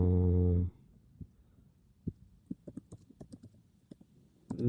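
Soft, close keyboard keystrokes tap one by one at an uneven pace after a brief voice at the start, with talk resuming just at the end.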